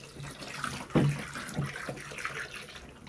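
Tap water runs into salted water for washing napa cabbage (pechay) while preparing kimjang kimchi, a soft steady trickle with a brief louder splash near the start.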